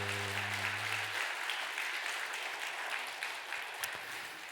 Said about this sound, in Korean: 우리 힘차게 박수.